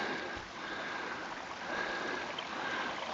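Small gritstone streams run through open grassland in the Tian Shan, giving a steady, broad rush and trickle of moving water that stays even throughout, with no voices.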